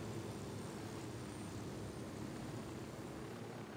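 A helicopter in the video game Ghost Recon Wildlands gives a steady, dense engine and rotor roar that fills the whole stretch evenly, with no talk over it.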